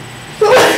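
A single sneeze bursts out loud and close in a quiet classroom during a math lesson, a sudden sharp onset after a near-silent moment.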